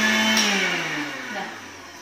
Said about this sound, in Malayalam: ഇപ്പൊ ഞാൻ മിക്സിയിൽ ഇട്ട് അടിക്കാൻ പോവാണ്.